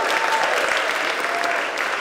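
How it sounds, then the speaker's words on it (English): An audience at a sustainable TV and film production event in New York claps continuously, a dense, even burst of applause from a large crowd heard close and alone. "So can we give them a round of applause?"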